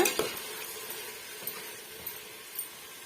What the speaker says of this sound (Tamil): இந்த தக்காளி பழமும் நல்லாவே ஒரு அளவுக்கு மசிஞ்சு வரணும் அது வரைக்கும் நம்ம வதக்கி விட்டுக்கலாங்க